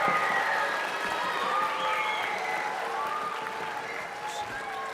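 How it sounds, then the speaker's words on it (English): Audience applause at a school band winter concert, a steady wash of clapping from a crowd that holds at an even level throughout, with cheering and faint voices mixed in. "Can you please give a round of applause to Naya,"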